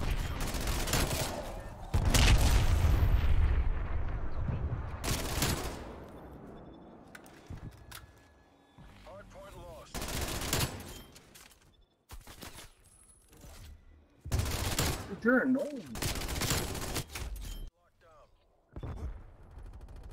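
A PPSh submachine gun fires in a video game in several long automatic bursts separated by pauses. The shots are loud and close, and a voice talks between them.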